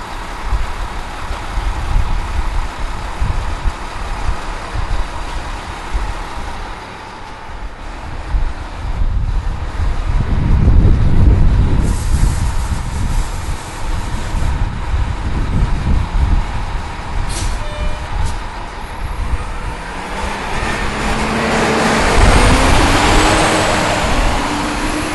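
A 1999 MCI 102DL3 transit coach with a B500R6 automatic transmission drones along under heavy wind buffeting, its engine rumble swelling midway and again near the end as it accelerates.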